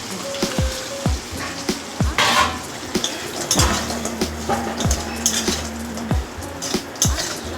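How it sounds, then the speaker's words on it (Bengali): Lentil dumplings (bori) fry in oil in a pan, a steady sizzle broken by repeated sharp metallic clinks and scrapes of a spatula against the pan, close and moderately loud. "এই তেলেই দিয়ে দেবো বড়ি, ভেজে নেবো বড়িগুলো"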